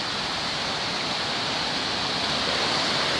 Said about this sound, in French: Entendez le bruit magnifique de l'eau,